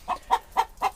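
Geese give a warning call: four short, sharp honking calls, evenly spaced and close by, with no talking.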